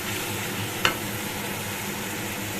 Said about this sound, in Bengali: আমি ভালো করে এটাকে কষিয়ে নিই